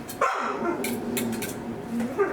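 A dog barks and yips repeatedly near a kitchen where pork is roasting, several sharp barks in quick succession over steady background noise.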